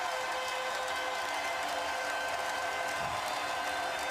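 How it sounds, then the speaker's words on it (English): Basketball crowd giving Allen Iverson a standing ovation during a 2001 Lakers–76ers Finals game, a dense, steady wash of cheering and applause filling the arena throughout without letup. "Standing ovation for Iverson."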